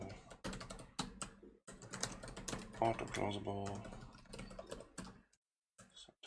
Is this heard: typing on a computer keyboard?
yes